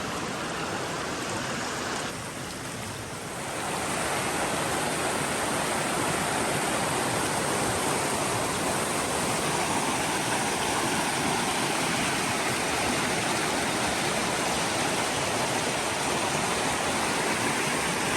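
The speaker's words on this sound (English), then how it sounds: "Thank God we're finally climbing away from that creek." Rushing creek water runs beside the Bigfoot Trail in a forest, a loud, continuous broadband roar holding steady and close throughout with no voices.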